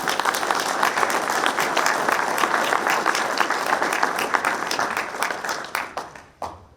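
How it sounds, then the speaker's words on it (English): Guests at a baseball first-pitch dinner give the families a round of applause, a full, steady burst of clapping from a banquet room that thins out near the end into a few scattered claps. "So please give a round of applause to our families who are here tonight."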